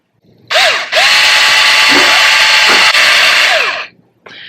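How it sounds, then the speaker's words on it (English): A small drill whines loudly and steadily while boring a hole in a piggy bank's tail. The pitch dips briefly a couple of times under load, then the drill stops and starts again for a moment. "Okay, I drilled a little hole in there."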